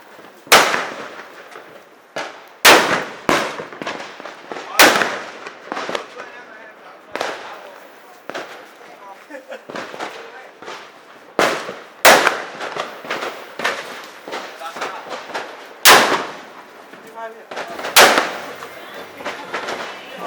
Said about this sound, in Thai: ซึ่งบรรยากาศที่นี่ก็จะเต็มไปด้วยเสียงประทัด ดังกึกก้องในหมู่บ้าน